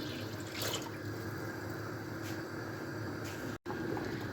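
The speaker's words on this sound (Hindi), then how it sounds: "अब इसमें पानी जाएगा तकरीबन 9 से 10 गिलास, 6 गिलास चावल है।" Water poured from glasses into a small cooking pot for chicken pulao, about nine to ten glasses for six glasses of rice, a soft steady splashing trickle with a few brief louder gushes and one short break.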